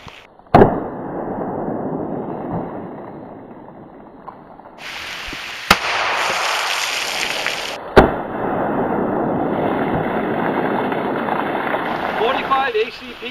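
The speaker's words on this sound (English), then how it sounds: "going to fire one of the Hollowpoints. This is one of the old Black Talon rounds" Old Black Talon hollow-point pistol rounds in .45 ACP are fired into water jugs, sharp loud reports at about one, six and eight seconds over a constant hiss of outdoor background noise.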